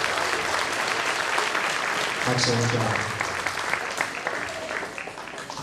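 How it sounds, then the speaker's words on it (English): A concert audience at a school band and orchestra performance applauds a student soloist, steady dense clapping filling the hall throughout, with a voice briefly speaking over it partway through. "let's give her another round of applause"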